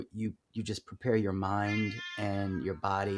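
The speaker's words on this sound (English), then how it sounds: "that's my cat." A pet cat meows clearly and close by, several drawn-out cries mixed with someone speaking, the meows rising and falling in pitch and partly overlapping the voice.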